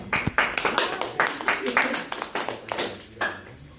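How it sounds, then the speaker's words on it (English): A small audience claps in sparse, distinct individual claps with a loose uneven rhythm, fairly close, before fading out; speech is faintly present. "Go ahead and clap, y'all."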